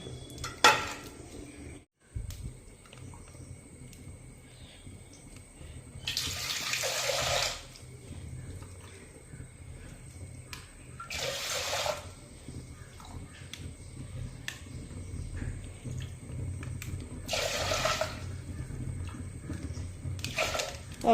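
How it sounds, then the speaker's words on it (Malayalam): Water is scooped out of a pot in repeated bursts, each a splashy pour lasting about a second, with clinks of a ladle against metal in between. "ഇപ്പോഴും കുറച്ച് വെള്ളമുണ്ട്, ഇതങ്ങ് കുറേ കോരി മാറ്റാം"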